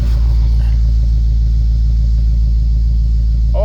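A 2022 Shelby GT500 with its catalytic converters removed and wood chips just cleared from the exhaust runs steadily, giving a deep, continuous low rumble up close with no talking.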